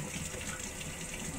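Steady running tap water splashing as a pork chop is rinsed under a kitchen faucet, a continuous close hiss and gush with no speech.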